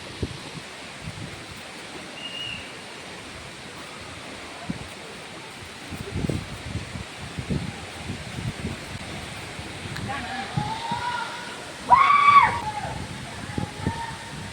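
Steady, broad rushing roar of the Agaya Gangai waterfall in the Kolli Hills, heard from about 100 meters away with spray in the air, continuous throughout while people talk over it.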